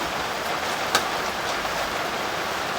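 Light rain falling outdoors, a steady soft hiss that holds evenly throughout with no voices.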